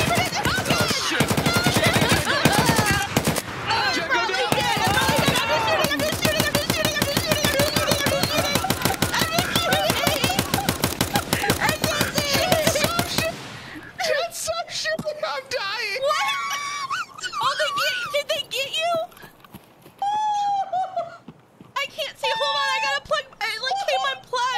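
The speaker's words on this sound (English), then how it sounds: "Oh, we're being shot at." Rapid automatic gunfire in the video game Escape From Tarkov, dense bursts crackling continuously for about thirteen seconds, then sparser shots under frantic shouting and talk.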